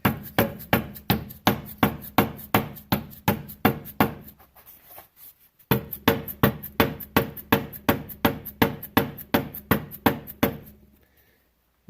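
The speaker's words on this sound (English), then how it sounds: "I don't hit it hard, just a few taps." Light hammer taps on the housing of a Jeep XJ transfer case: two long runs of sharp, evenly spaced metallic knocks, close and clear, with a short quiet gap between them.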